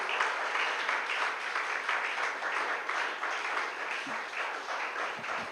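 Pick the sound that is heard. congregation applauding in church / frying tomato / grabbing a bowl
congregation applauding in church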